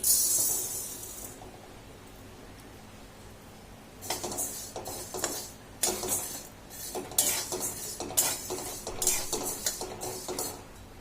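Masoor lentils dry-roasting in a pan, stirred with a utensil: after a quiet start, bursts of scraping, rattling grains and metal clinks come in irregular clusters, close and moderately loud.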